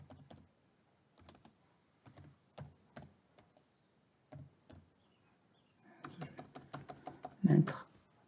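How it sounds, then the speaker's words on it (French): A short email message is typed on a computer keyboard, close, crisp keystrokes in small scattered bursts separated by pauses, then a quicker flurry of taps toward the end in a quiet room. "j'ai tapé mon message qui n'est pas long"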